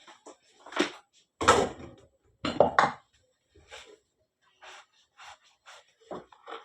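Kitchen utensils, a spoon then a plate, handled in short separate bursts of clinks and knocks with quiet gaps between, fairly close and moderately loud, with no talking over them.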